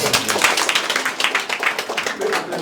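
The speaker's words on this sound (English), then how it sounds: "Can we clap, please?" Audience at a science and leadership festival clapping for a student, a close, lively burst of many hands clapping in quick irregular rhythm, sustained throughout.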